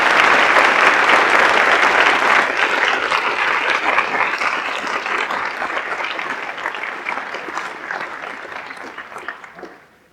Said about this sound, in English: Could we please have a round of applause for all of our staff members for 10 years of service?